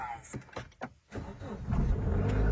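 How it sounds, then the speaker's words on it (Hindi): A Honda Amaze diesel car gives several clicks and thumps, then its engine cranks and settles into a low, building rumble, close by, while someone talks. "गाड़ी स्टार्ट की नहीं हो रही भाई"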